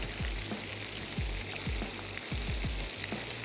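Ridge gourd with ground red chilli frying in a pan, a soft steady sizzle with repeated low scraping knocks from a spoon stirring at an uneven rhythm, close and moderately quiet.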